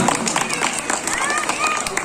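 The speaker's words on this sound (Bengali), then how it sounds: "থামবেন না হাততালি" An audience applauds after a children's dance to a song, giving a short burst of scattered clapping mixed with voices chattering in the room.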